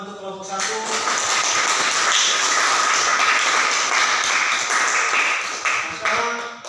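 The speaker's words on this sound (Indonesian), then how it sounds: "kita berikan tepuk tangan untuk kelompok 1" Classroom applause for a presenting student group in a math lesson, many hands clapping steadily and loudly for several seconds before fading out.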